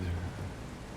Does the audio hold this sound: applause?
no